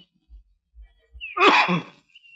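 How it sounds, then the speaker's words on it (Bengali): A single harsh cough bursts out after a few soft low thumps, close and fairly loud, then quiet. "বড় কাশি হচ্ছে"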